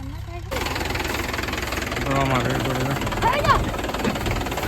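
An irrigation machine engine runs steadily in a groundnut field at harvest, a mid-pitched idling drone starting abruptly after a brief quiet moment, with people talking over it.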